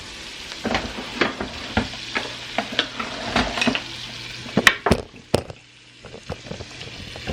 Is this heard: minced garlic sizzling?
yes